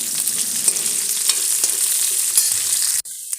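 Loud, steady sizzling of onions frying in a hot pan, with a few stirring scrapes, cutting off abruptly near the end.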